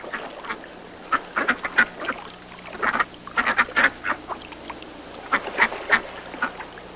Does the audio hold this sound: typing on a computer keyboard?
no